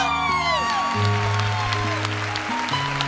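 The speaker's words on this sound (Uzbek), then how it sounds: "jannatiy inson uchun bitta gildiroz qarsak bo'lsin" Audience at a Turkmen wedding applauds steadily, a dense patter of hands carrying on throughout beneath sustained music tones.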